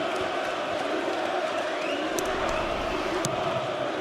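Crowd at the Alexandra Palace World Darts Championship roars and chants continuously, a dense wall of cheering and voices filling the hall, loud and sustained throughout.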